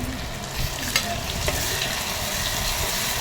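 Ginger, garlic and coconut paste frying in a pan, a loud continuous sizzle with a few spatula scrapes as it is stirred, close up and with no talking.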